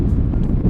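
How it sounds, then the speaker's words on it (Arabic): Strong wind buffets the microphone on a driving-test route in Britain, a loud, constant low roar with gusts lasting through the short moment. "جو هوا، الجو وحش قوي"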